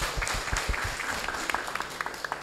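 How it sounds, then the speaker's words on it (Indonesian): An audience at a land-certificate handover ceremony in Panjer village, Plosoklaten, breaks into brisk, dense applause, many hands clapping together at close range for a couple of seconds. "Tepuk tangan buat Bapak dan Ibu sekalian."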